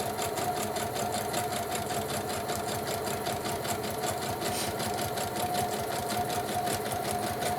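A sewing machine stitches an envelope cover next to a score line. Its fast, even mechanical whir and needle clatter run steadily and close up for the whole stretch.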